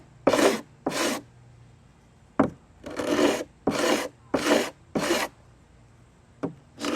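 Hand sanding a wooden piece with 100 grit sandpaper to round corners and remove nibs, heard as seven or so brisk rasping strokes in short bursts with brief pauses between, close and fairly loud, no talking.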